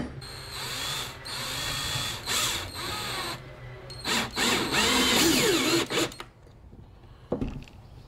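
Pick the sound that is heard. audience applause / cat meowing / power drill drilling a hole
power drill drilling a hole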